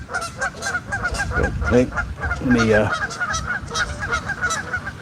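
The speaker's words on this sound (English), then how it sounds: "these geese pretty vocal right now for some reason" Geese honk repeatedly at a pond, loud calls rising in bursts near the middle and scattered through the rest, with a brief bit of talk at the start and steady outdoor background.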